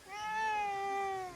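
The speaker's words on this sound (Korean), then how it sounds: "개냥이요." A friendly cat gives a single clear, drawn-out meow close by, rising slightly and then fading, with no talking over it.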